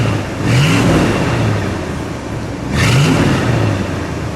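A 1959 Chrysler New Yorker hardtop V8 revved twice, each rise climbing and falling back to a throaty idle, loud and close near the exhaust.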